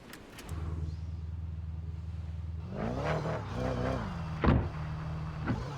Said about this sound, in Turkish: Motor açalım.